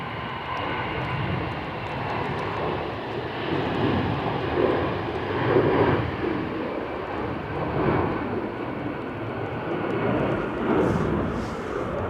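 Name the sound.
orange EasyJet airliner engines at Manchester Airport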